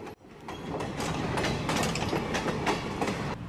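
A Cooperstown and Charlotte Valley Railroad train rolls along the tracks with rhythmic clickety-clack of wheels over rail joints, fairly close and steady, no voices.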